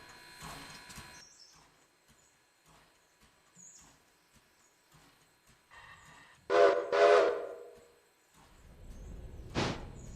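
A train in the railroad video game Railroader rumbles softly and quietly, with birdsong, then gives two loud close whistle blasts in quick succession, followed by another short blast.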